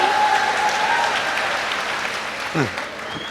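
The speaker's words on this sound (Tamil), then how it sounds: "அப்துல் கலாமுக்கு கூட அப்புறமா தான் கைத்தட்டல் வருது" An audience at a Tamil public speech applauds with a dense, sustained clatter of clapping. A voice briefly talks over it toward the end as the applause slowly thins.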